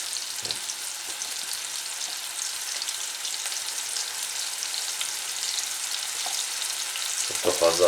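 Yozgat sucuk melts in a hot pan with a steady, close, crackling sizzle that runs the whole time, with a brief utensil clatter near the end.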